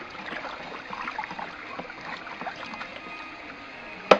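Liquid fermentation mash stirred in a container to make alcohol fuel, giving soft continuous sloshing and trickling swirls at moderate level, ending in a sharp knock.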